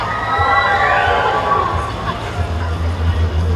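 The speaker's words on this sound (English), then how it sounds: "Let's have our cheer." A crowd at a Comic Con in Telford cheers and shouts loudly for several seconds, with children's high voices mixed into a steady, energetic roar.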